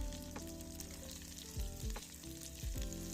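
Chopped garlic, diced onion and celery with grated ginger and diced tomatoes sautéing in a pan for oxtail, a quiet continuous sizzle with occasional stirring scrapes.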